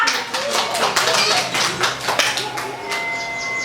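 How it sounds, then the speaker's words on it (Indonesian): Young preschool children clap their hands in a classroom during a jungle animal activity, a run of close, uneven individual claps with a child's or teacher's voice mixed in, tapering off near the end. "Ya, tepuk tangannya ya."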